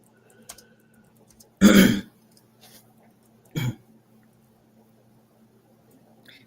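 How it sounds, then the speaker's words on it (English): Someone nearby clears their throat twice, one harsh longer rasp followed by a shorter one a couple of seconds later, against near silence. "Excuse me if you guys hear me kind of clearing my throat."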